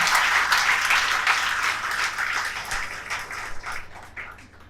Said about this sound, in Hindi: एक बार उन सब के लिए जोरदार तालियां, अपने लिए जोरदार तालियां।